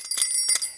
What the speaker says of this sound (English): it is that kind of time of year that you might be hearing bells wherever you go